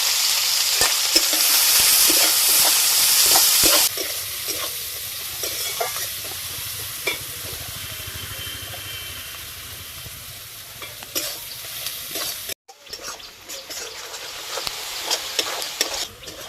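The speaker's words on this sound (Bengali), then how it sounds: "পেঁয়াজ ভালো করে ভেজে নিয়েছি" Chopped onion frying in oil with whole garam masala, a loud, continuous sizzle that starts bright and hissing, then settles into a steadier crackle with intermittent stirring scrapes near the pan.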